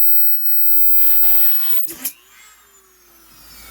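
Drill bit boring a divot into a dog bowl: a motor whine first, then about a second of loud grinding as the bit cuts, then the drill winding down with a falling tone.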